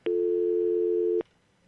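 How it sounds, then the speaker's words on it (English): A steady telephone dial tone hums at one constant pitch for about a second on a checked phone line, then cuts off cleanly, leaving quiet line hiss. "So there's a dial tone, and the noise isn't killing you."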